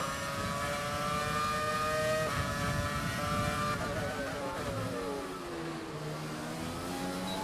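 Mika Häkkinen's McLaren Formula 1 car in the F1 2020 racing game, a sustained high-pitched engine whine that holds steady, then sweeps up and down through gear changes as it drives past.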